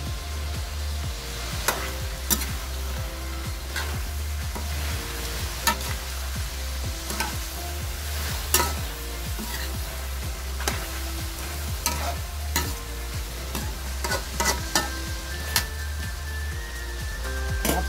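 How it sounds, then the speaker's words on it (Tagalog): Papaya pieces go into a simmering soup and are stirred in the pot. A steady bubbling sizzle runs throughout under repeated clinks and scrapes from the spoon against the pot. All of it is close and busy. "ilagay na natin itong papaya para manamis-namis ang sabaw"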